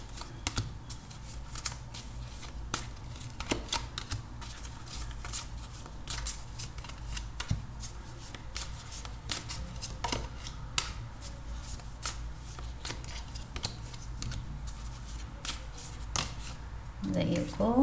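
Tarot cards are shuffled and drawn by hand in a steady run of soft, crisp riffles, flicks and slaps, close and fairly quiet, with a voice talking faintly through parts of it.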